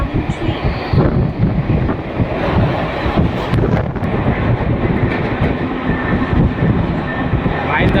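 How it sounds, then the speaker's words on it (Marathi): A crowded train rumbles past close by, a steady loud roar with rattling and wind buffeting throughout. "की ट्रेन बगा फुल भरलेली आहे"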